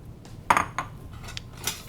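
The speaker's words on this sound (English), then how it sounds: "Let me grab my bowl" Ceramic bowl and metal ladle lifted from a kitchen counter, giving a few sharp clinks and knocks spaced out over a couple of seconds, close and fairly quiet.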